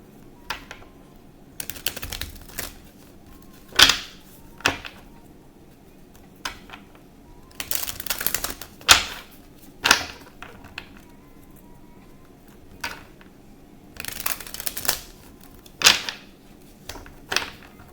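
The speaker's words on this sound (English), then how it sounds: "I'm going to shuffle." Repeated crisp slaps and riffling bursts of tarot cards being shuffled, in irregular clusters with short pauses between, close up and fairly loud, no talking.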